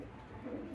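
A brief, soft, low coo from a Baghdadi homer pigeon, heard faintly and close for under a second.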